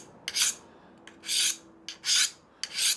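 Hand scraper with a burred edge drawn across a piece of scrap wood, four close rasping strokes in a steady rhythm, each ending with a short pause, no talking.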